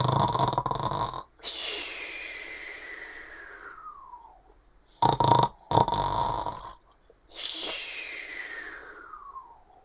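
A wolf in a Red Riding Hood story snores loudly, and a voice imitates it: two long rasping snores that trail off and fade, split by a short burst of snorting.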